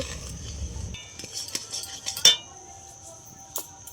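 A spoon scrapes and clinks against a pan while a sweet bread rasmalai mixture is stirred, a few sharp metallic taps standing out from softer scraping close by.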